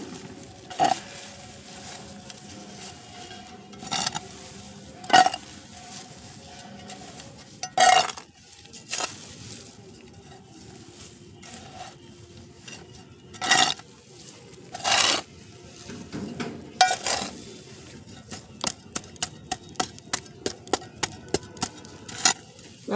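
Potting soil for a gerbera plant is mixed by hand in a container, giving scattered scraping and clinking knocks, some loud and isolated, ending in a quick rhythmic series of taps.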